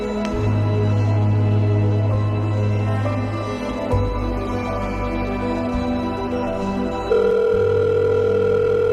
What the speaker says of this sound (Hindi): ऐसा करता हूँ, रोहन को फोन करता हूँ